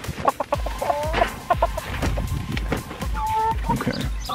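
Chickens cluck and squawk repeatedly around a chicken tractor, close and fairly loud, with short bursts of calls and some scuffling and knocking between them.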